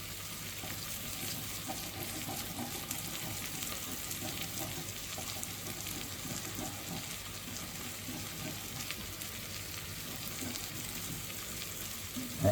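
Tomato paste toasting with caramelised onions in a pot for a beef bourguignon: a soft, continuous sizzle and crackle with faint stirring, fairly quiet and even throughout.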